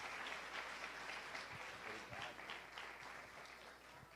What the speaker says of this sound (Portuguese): Vamos aplaudir pela vida do Filho de Deus.